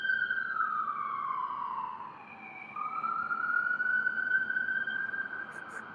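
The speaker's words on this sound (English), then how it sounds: "Damn, the sirens is out here booming all day." Emergency vehicle sirens wail outdoors on a Seattle street, a continuous rising and falling tone at moderate distance over low traffic rumble, dipping briefly in the middle before swelling again.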